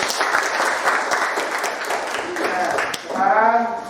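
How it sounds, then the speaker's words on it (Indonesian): Children in a classroom clap together at the end of a lesson, a dense burst of applause with a teacher's voice talking over it and a voice rising near the end. "Silakan tepuk tangan semuanya."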